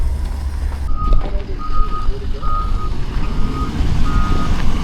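A Doosan heavy equipment machine backs up with steady repeating reversing beeps over a loud, rumbling diesel engine close by.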